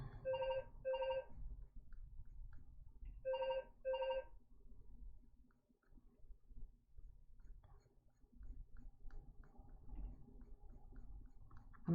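A landline house phone rings in a repeating pattern of paired electronic trills separated by pauses, heard indoors against a low room background with no speech.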